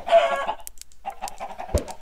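Chickens in a homesteading video game give several close, clipped clucks in quick succession, with a brief pause and a soft thud near the end.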